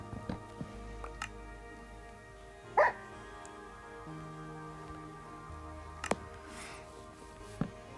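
Dog barks from the video game Minecraft, a few short yips and barks scattered through a quiet in-game scene with low background tones, fairly faint.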